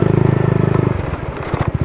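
Close, loud rapid rattling from a motorcycle with a loose brake shoe, a fast regular chatter that breaks into uneven clattering knocks toward the end.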